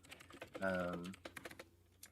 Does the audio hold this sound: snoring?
no